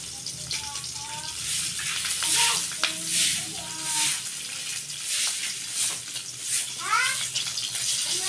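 Steady sizzling and crackling of food frying in a pan, with clinks of a utensil and a voice speaking intermittently over it.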